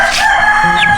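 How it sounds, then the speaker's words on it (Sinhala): Asil chicken chick calling on a village farm, a few thin high chirps standing out close over steady background farmyard noise. "ඇසිල් කුකුල් පැටියෙක්"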